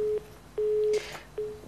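After a dropped call on a television phone-in line, a telephone busy signal sounds three short, loud, steady tones, each ending abruptly, with faint line noise between them.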